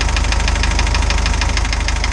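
The engine of Rusty the Spryte runs steadily as it warms toward operating temperature after exhaust and coolant leak repairs, a close, loud, evenly pulsing idle with a rhythmic knocking beat and no talk.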